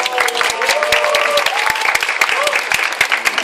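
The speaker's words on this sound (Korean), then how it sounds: "여러분 박수로 환영해 주십시오" Congregation applause at a small church fair welcoming two pastors to the front, steady sharp clapping throughout with a voice speaking over it.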